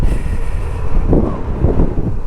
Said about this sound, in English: It's windy today, blowing me around.